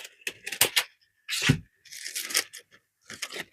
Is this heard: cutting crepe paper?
yes